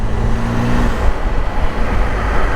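Triumph Tiger motorcycle engine droning steadily in sixth gear at about 3000 RPM while cruising at road speed, a continuous loud low hum mixed with wind rush and road noise, with a brief tonal whine fading early on.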